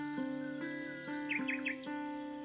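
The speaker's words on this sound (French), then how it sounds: "la campagne, les oiseaux chantent à tue-tête" Birds chirping in the countryside, a few quick high tweets and short trills, faint against a sustained tonal background of music.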